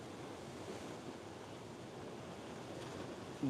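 Ocean waves washing in a steady, soft, continuous roar with no distinct breaks. Faint and distant, with no voices.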